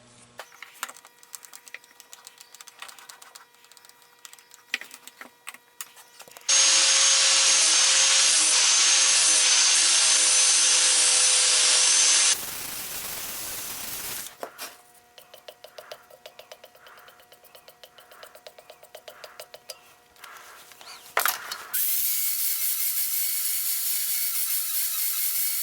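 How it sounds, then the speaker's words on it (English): A 60 grit flap wheel grinds a file-steel knife blade in long steady passes, a loud sustained abrasive whir broken by quieter scraping and tool handling between runs. "we're going to clean that up with the flap wheel, get all the lines out"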